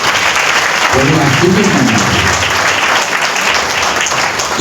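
A church congregation at a Sunday service claps hands together in a dense, sustained burst of applause, loud and close, while a voice speaks over the clapping.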